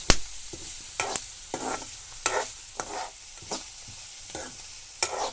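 Vegetables sizzle in a hot pan over a wood-fired stove, broken by repeated sharp scraping and stirring strokes at roughly one-second intervals, close up with no talking.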